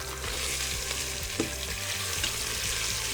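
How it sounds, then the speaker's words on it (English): Bones browning in an Instant Pot on the high-heat saute setting make a continuous, even sizzle up close, with one brief knock partway through. "So I've got my machine set over high heat on saute. Just gonna brown those for a few minutes."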